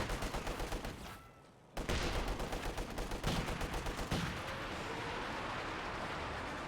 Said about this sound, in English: Katusha barrage somewhere.